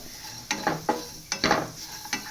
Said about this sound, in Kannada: ಬೆಳ್ಳುಳ್ಳಿನ ಸುಲಿದಿಟ್ಕೊಂಡಿದ್ದೀನಿ ಅದು ಎಣ್ಣೆ ಹಾಕ್ಕೊಂಡಿರೋ ಡ್ರೈ ರೋಸ್ಟ್ ಮಾಡ್ಕೊತಾ ಇದ್ದೀನಿ